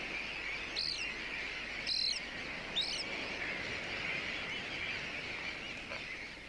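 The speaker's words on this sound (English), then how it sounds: "here's a young sandwich tern" A young sandwich tern at an island colony gives three short, high chirping calls spaced about a second apart, moderately near, over a steady hiss of wind and insects.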